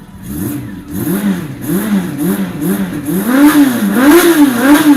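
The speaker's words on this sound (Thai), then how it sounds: "มาฟังเสียงเครื่องกันเลย" A 2005 Honda CB400 V-TEC III motorcycle engine is revved repeatedly, each throttle blip rising and falling in pitch, growing louder and more frequent toward the end.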